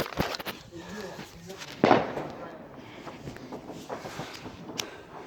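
Profishow 100-shot 25 mm fireworks cake being set off on New Year's Eve, heard as a loud burst with crackling pops amid outdoor noise, and people talking nearby.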